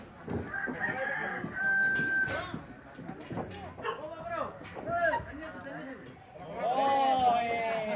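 A rooster crows several times in drawn-out, wavering calls close by, with clucking among them, as people talk over it in the morning.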